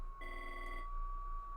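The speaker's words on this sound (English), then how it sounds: "I still have to deal with all these phone calls in the background." A telephone rings once in a single harmonic burst lasting about half a second, heard in the background behind a steady electronic tone during a Pokemon Brilliant Diamond game session.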